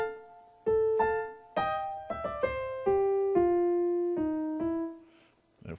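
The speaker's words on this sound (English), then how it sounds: "In this video I'm going to cover another bluesy lick." A bluesy gospel run played slowly on a keyboard over a 2-5-1-6 chord progression, about a dozen distinct notes and chords struck one after another and left ringing, descending in pitch, clear and close with no talking.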